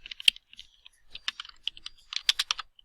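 Quick bursts of keystrokes on a computer keyboard as a song title is typed, close and crisp, in irregular clusters with short pauses between them.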